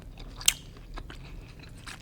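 One sharp, crisp crunch of a bite into vegan Puerto Rican food, a ham-and-cheese style item, followed by faint, soft chewing, heard close and quiet.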